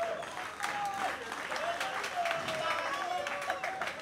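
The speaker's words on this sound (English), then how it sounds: "Can we give German a round of applause?" Audience applause at Tunde Kilani's 70th birthday celebration in Nigeria, honoring a filmmaker named German: steady, dense clapping throughout, with voices and whoops mixed in beneath it.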